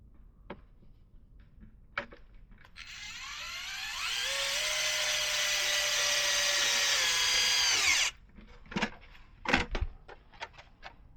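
A power tool whirs as it drives a screw into a Traxxas Slash late model RC car body, rising in pitch and holding for about four seconds before stopping, followed by light clicks and handling knocks.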